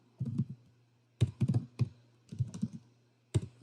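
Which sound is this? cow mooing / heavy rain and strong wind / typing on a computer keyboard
typing on a computer keyboard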